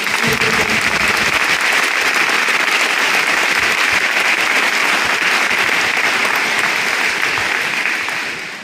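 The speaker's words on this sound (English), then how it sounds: "let's give Gary a good round of applause" A town hall audience in Newport gives a sustained, dense round of applause that fills the whole stretch at a steady loud level, a broad roar of many hands that tapers slightly at the very end.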